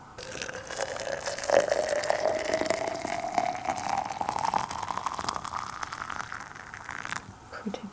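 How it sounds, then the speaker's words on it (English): Water comes to a boil in a pot on a kitchen stove while tea and fries are being made, a faint, steady bubbling and rushing hiss lasting several seconds with no one speaking. "the water is boiling"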